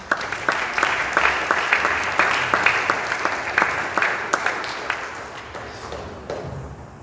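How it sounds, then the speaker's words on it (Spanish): A church congregation claps during a Spanish-language service honoring the Lord, a busy, fairly loud round of many hands with sharper individual claps standing out, sustained for several seconds before easing off. "Denle un aplauso al Señor."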